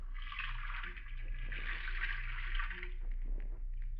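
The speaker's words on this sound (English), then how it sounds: "You fill it with water from the faucet." Water runs steadily from a sink faucet in a radio mystery drama, a continuous hissing stream over a low hum, with faint scraping movement near the end.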